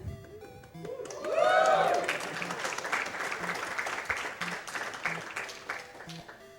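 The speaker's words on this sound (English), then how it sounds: "let's stick around and cheer on Simpol Dude, shall we" An audience at a Zelda II: The Adventure of Link speedrun race during a charity marathon breaks into applause and cheering that swells early, then continues as steady clapping, with a voice briefly audible beneath.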